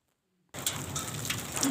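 After a brief silence, evening rain falls in a steady, even hiss with faint patters, heard close and fairly loud while the sun is still out nearby.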